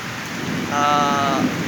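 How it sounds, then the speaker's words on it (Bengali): Steady rain patters throughout, with a brief tonal hum rising over the downpour midway. "এমনি কিন্তু অনেক সুন্দর বৃষ্টি হইতেছে, ভালোই লাগতেছে।"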